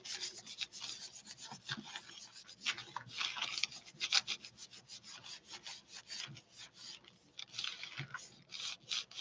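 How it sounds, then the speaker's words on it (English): A gelli print transfer rubbed by hand makes a dry, scratchy back-and-forth friction close up, repeating in quick uneven strokes throughout. "Rub, rub, rub."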